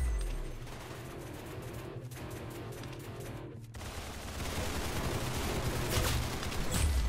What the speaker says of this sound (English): Good shot, mate. You got his head.